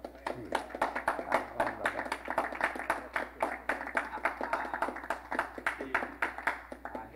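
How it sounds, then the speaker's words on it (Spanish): Rhythmic hand clapping rises from a small church gathering, with quick regular claps keeping a steady beat and a few voices faintly mixed in. "un aplauso para el Señor"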